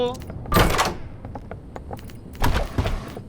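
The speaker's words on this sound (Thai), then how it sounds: "โอเคเปิดประตู" A door opens in the Roblox horror game DOORS, two separate bursts of thudding, scraping noise about two seconds apart, with quieter game sounds between them and a voice talking over it.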